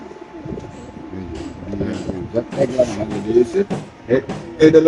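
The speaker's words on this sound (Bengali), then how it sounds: "এখানে আছে আরেক জোড়া কবুতর" Pigeons cooing in cages at a bird market stall, soft repeated coos and flutters running through the clip beneath someone talking nearby.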